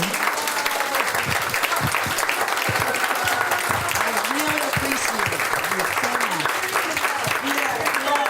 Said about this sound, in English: we're going to take a moment to thank Rolonda with a big clap and a big smile